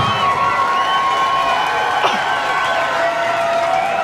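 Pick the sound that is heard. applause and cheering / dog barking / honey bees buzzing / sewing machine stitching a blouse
applause and cheering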